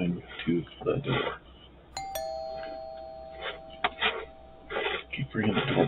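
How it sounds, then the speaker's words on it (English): A two-tone doorbell chime rings out sharply, then rings once more a couple of seconds later, with people talking over it. "Keep ringing the doorbell. I don't care."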